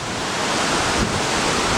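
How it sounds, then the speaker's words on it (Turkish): Rushing water at Mençuna Waterfall near Arhavi, a steady broadband roar of falling water that stays loud and continuous throughout, with some wind noise on the microphone. "Arhavi Mençune Şelalesi'ndeyim"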